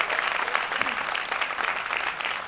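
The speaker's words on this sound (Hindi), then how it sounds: "ताली बजा के बता दो एक बार" An audience at a Hindi poetry gathering (kavi sammelan) claps steadily, a dense sustained round of applause from a crowd, without talk over it.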